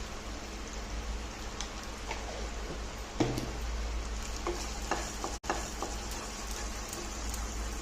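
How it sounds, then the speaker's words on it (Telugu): Masala fries in a pan for a paneer curry, with a soft continuous sizzle, intermittent stirring scrapes and a couple of sharp clicks. "సగం ఉడికేదాకా ఊరికే ఫ్రై చేసుకోవాలి"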